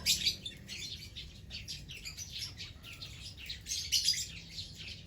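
A cream-ino lovebird chirps in rapid, high, shrill bursts close by, nearly continuous over a low background hum.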